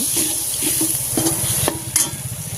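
Spices sizzling as they are stirred in a pan for a potato and dal curry seasoned with asafoetida, salt and masala, loud steady frying hiss with several clinks and scrapes of a spoon.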